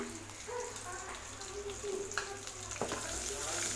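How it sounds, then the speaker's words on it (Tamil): Small onions and lightly browned garlic sizzle in a pan for an onion kara kulambu, with occasional stirring clinks over a steady hiss. Faint background noise runs underneath, and no one speaks. "இது கூட 1 கப் சின்ன வெங்காயம் எடுத்து வச்சுருக்கேன், அது இதில் சேர்த்திக்கங்க"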